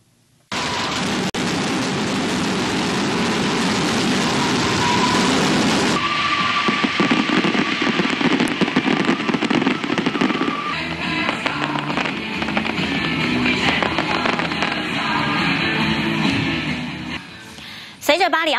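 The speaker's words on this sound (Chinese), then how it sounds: "那么绚丽的烟火呢，点燃了法兰西体育馆的夜空" Fireworks over the Stade de France at the Paris Olympics closing ceremony crackle and pop in a long, dense barrage that shifts in texture midway, with a voice talking over the din.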